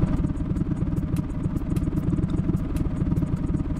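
A Toyota Calya's engine in BeamNG Drive held at full throttle, a loud, steady, rough drone with rattling clatter that continues without a break.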